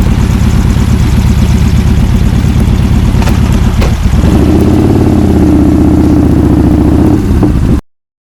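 Motorcycle on a UK motorway or dual carriageway during a tour from Leicester to Land's End, its engine droning steadily and close with heavy wind rush, the pitch rising as it accelerates partway through.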